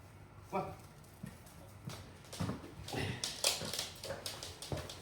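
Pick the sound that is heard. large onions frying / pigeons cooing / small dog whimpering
small dog whimpering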